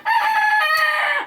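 Silkie chickens on a homestead: a rooster lets out one loud, close crow lasting about a second, with a short clucking note at its end.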